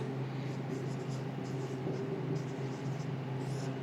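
A marker or chalk writes on a board during a grammar lesson, a soft scratchy stroking over a steady low room hum.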